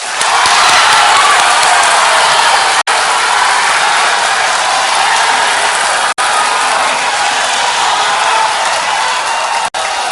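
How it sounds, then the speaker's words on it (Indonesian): Sustained audience applause at a human rights discussion, a dense, loud wash of clapping from a large crowd that carries on steadily with brief cuts. "Silahkan tepuk tangan."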